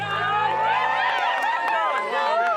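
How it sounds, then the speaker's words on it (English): Crowd at a big-wave surfing contest at Bells Beach cheering for John John Florence's high-scoring ride, a steady wash of shouts, whistles and babble filling the whole stretch, with commentary talk over it. "The crowd loves it."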